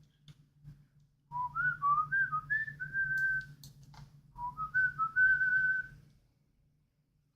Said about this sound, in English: I do tend to whistle a lot when I program.